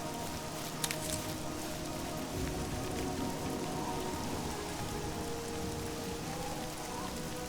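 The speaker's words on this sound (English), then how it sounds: "The rain, the ambience in this game, very well done." Steady rain ambience in the video game The Elder Scrolls IV: Oblivion, a constant dense patter of drops on surfaces at moderate volume with one brief sharper tap near the start, no voices.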